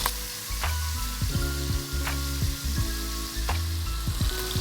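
Whole-muscle beef browning in a very hot pan, giving a loud, dense, continuous sizzle close up, with a few sharp crackles and low thumps scattered through it, and no voices.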